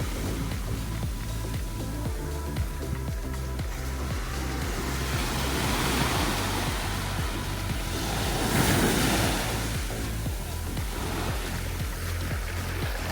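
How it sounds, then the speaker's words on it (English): Surf rolls onto a Caribbean beach in Martinique, a continuous wash of waves with buffeting wind noise on the microphone and a low rhythmic thrum underneath, building slightly toward the end. "This is definitely a very awesome beach."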